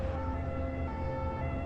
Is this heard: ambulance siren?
yes